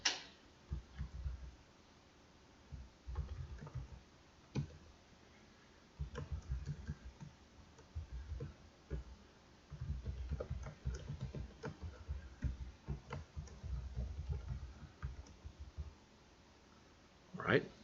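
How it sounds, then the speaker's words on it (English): Someone typing on a computer keyboard in short bursts of clicking keystrokes separated by pauses, fairly close and moderately quiet. "This is a little bit more typing."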